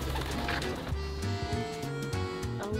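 A pigeon coos softly on a street in a small French town, low repeated calls heard under steady outdoor background noise.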